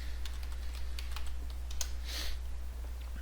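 Quick, light keystrokes patter on a computer keyboard as a short folder name is typed, close and fairly quiet, with a steady low hum underneath.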